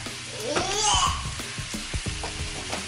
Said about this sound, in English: So, I got the bacon cooking.